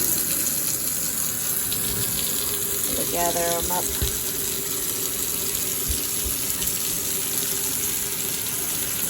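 Hot water runs from a bathtub tap in a steady, full rushing stream that lasts throughout, with a person briefly speaking over it.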